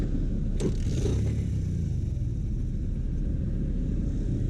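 Idling tricycle engine with a carburetor fault, a steady low rumble that runs close and continuous, with a brief brighter burst near the start, and no talk over it.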